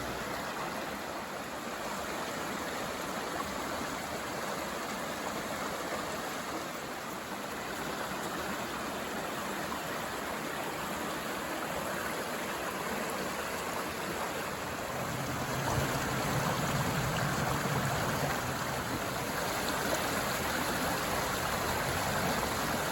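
Waterfall and stream rushing beneath a bridge at Sheepskin Hollow Preserve in Connecticut, a steady broadband roar of moving water that stays constant throughout, with no voices.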